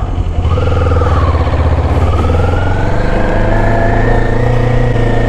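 A Kawasaki Z400 motorcycle on its stock muffler revs steadily and loudly up close, the engine note climbing through a sustained high-rev pull.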